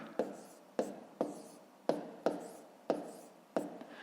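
A pen writing numbers by hand on paper for a column multiplication in a fifth-grade maths lesson, giving seven short, sharp scratchy strokes at an uneven pace. The strokes are close and clear, with no talking.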